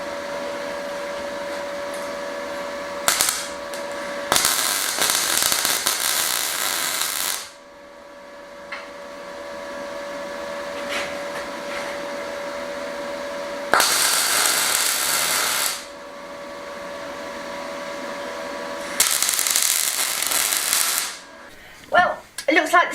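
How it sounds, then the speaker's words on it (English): A steel bench frame held by 90-degree magnets is tack welded in three loud, steady buzzing bursts of several seconds each, separated by quieter hum and pauses. "going to put a couple of tacks on them and then I'll weld them up properly."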